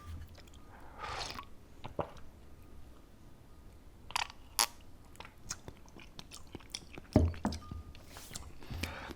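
Spicy Tom Yum ramen noodles eaten up close in a quiet room: intermittent slurps, wet chewing and a few soft clinks come in short bursts between pauses, with no talking.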